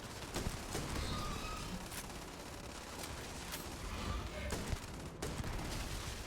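Gunfire in the video game Starfield, dense rapid shots and bursts running continuously over a noisy combat background, loud and close, with no clear pauses.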